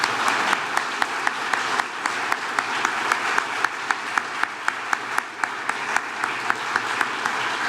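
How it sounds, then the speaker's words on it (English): Sustained audience applause at an association's annual meeting: a large crowd claps steadily and evenly for several seconds, a dense wash of hand claps with a few sharper individual claps standing out. "Please join me in a huge round of applause for these incredible leaders."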